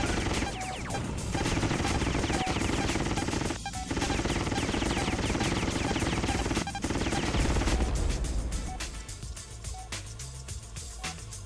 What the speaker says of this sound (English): This thing, I can use a cannon on.